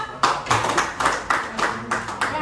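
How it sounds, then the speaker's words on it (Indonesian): A class applauds a presenting student group, with dense, uneven hand claps at close range that swell in repeated bursts, with some voices mixed in. "Oke, kita berikan aplaus buat kelompok 2."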